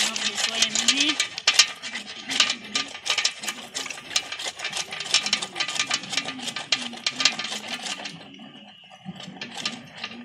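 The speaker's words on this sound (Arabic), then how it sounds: "اجيب الصابونة كده وابشرها بالمبشرة في المية، ابشرها كلها" A bar of soap is rubbed against a metal grater into water in quick, rhythmic rasping strokes, close and fairly loud. The strokes stop near the end, and someone talks softly beneath them.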